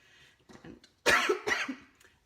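Two harsh coughs in quick succession from a woman with a nasty cough, close and loud, preceded by quieter low rustling and faint sounds.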